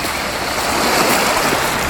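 Sea waves wash steadily over a rocky beach at Lobo, Batangas, a continuous loud rushing surf with some wind noise on the microphone and no voices.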